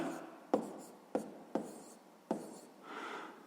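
A pen writes out a math solution on paper: soft scratching strokes broken by four sharp taps at uneven intervals, close and quiet, with a longer rubbing stroke at the end and no voices.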